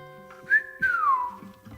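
A person whistles during an acoustic roots song performance, a clear, near melodic whistle rising and then sliding down in a single phrase, with faint background sounds.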